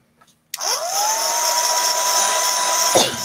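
Electric craft dryer blowing air to dry a model mountain village scene, switched on abruptly and running as a loud steady whir with a rising tone for a few seconds before cutting off.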